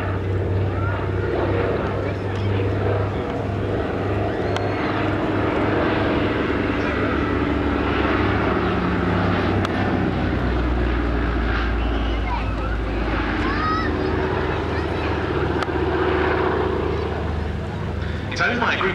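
Consolidated Catalina flying boat painted as a WWII OA-10A rescue aircraft, its piston engines and propellers droning steadily and loudly throughout at an airshow at East Kirkby, with people talking over the noise.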